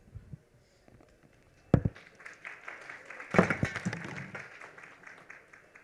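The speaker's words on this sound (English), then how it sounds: "Please welcome him with a round of applause." Audience applause breaks out in a conference hall at a digital technology event, a burst of clapping that starts abruptly and builds to moderate loudness with scattered sharp claps.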